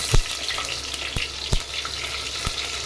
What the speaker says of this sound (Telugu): అవి వేగిన తర్వాత నెక్స్ట్ మెంతులు చిటుకుడు, మెంతులు కూడా వేగిపోయాయి